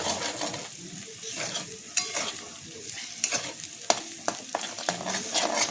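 A spatula scrapes and stirs egg into a frying potato filling in a pan, repeated sharp scraping strokes over a soft background sizzle, close and uneven in rhythm, with no voices.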